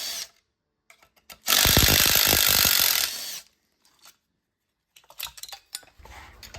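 Power tool whirring as muffler screws are removed from a Stihl MS 661 chainsaw with a scored piston and cylinder, one loud sustained burst followed by quieter clinks and handling noises.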